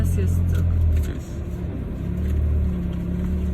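Steady low hum of an Isuzu car engine running with the air conditioning on while climbing a hill, droning under the cabin with a slight dip and recovery partway through, with people talking over it.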